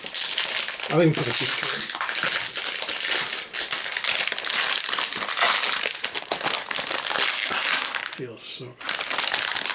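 Warcry faction pack packaging being opened, with crinkling and crushing plastic and cardboard close up, continuous handling noise under someone talking.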